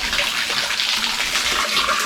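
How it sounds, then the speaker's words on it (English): Water at Antharagange hill in Kolar falls and splashes in a steady, close, hissing rush with no voices. "You can see the water coming out here and like falling out."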